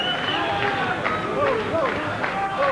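A boxing crowd at Madison Square Garden's Felt Forum during the 1988 Golden Gloves semi-finals murmurs and chatters steadily while awaiting a decision, with whistles and calls rising from the mass of voices.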